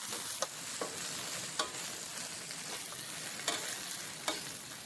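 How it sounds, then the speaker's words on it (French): Chopped garlic and shallot are stirred in hot oil in a pan, a soft continuous sizzle with a few light spatula clicks spaced roughly a second apart, no voice. "Je mets de l'ail haché et de l'échalote hachée et je remue bien."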